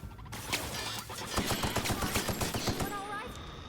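Rapid electro bullet gunfire in The Outer Worlds, a dense stream of sharp shots packed into quick bursts against a loud, busy game battle, with voices over the fire.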